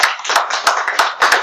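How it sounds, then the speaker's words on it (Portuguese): A small group claps rhythmically in a training course session, sharp close hand claps in a quick uneven pattern with no talking. "Salva de palmas."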